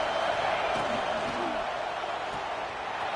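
Georgia football stadium crowd roars on third down during a college game against Ohio State, a broad, sustained wash of distant cheering and noise that holds steady throughout, with a few faint thumps inside it.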